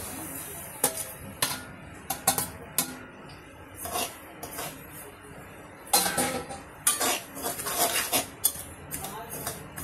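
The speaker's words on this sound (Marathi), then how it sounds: "कढई आपली तापलेली, आपण रवा भाजून घ्यायचा." Semolina dry-roasting in a hot kadhai, with repeated scraping and stirring bursts of a spoon against the metal pan, close and uneven over a low background.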